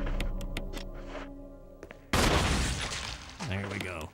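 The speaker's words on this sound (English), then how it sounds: "One last head explosion." A head explosion in a video game: a sharp burst of loud shattering, crashing noise lands midway and is followed by a tonal game effect, with softer plinking game sounds before it.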